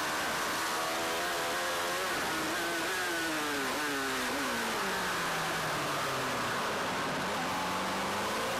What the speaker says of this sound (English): You hear the bike working away up this hill here.